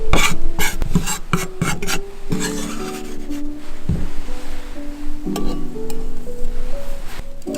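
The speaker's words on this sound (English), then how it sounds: "Refrain yourself from zesting white flesh" A lime's green peel is scraped against a zester in quick repeated rasping strokes, close and fairly loud, with a faint tonal background.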